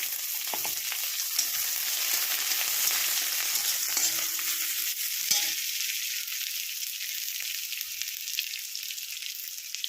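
Onion and garlic sizzle in a hot pan with a steady, bright crackle, a few stirring scrapes early on and no talking.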